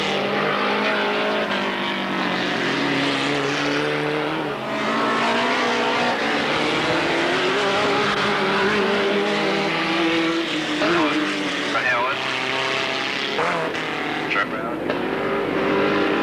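Supermod race cars roaring around a track together, engines droning and rising and falling continuously while a commentator talks over the racing.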